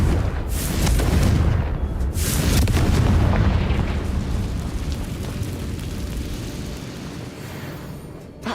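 Confringo spell explosion in Hogwarts Legacy, a loud booming blast with a long rumbling tail that slowly fades, close and heavy, with no talking over it.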